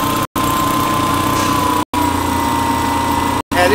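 A Franklin aircraft engine runs steadily with its alternator under electrical load at landing RPM, a loud, close, droning hum with a constant pitch, broken by a few brief dropouts.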